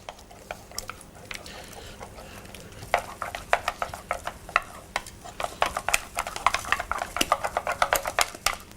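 Egg being stirred into choux pastry dough, a sticky wet slapping and scraping in a steady run of quick strokes that grows busier and louder toward the end, with no talk.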